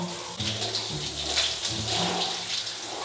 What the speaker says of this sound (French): je vais me taper une douche froide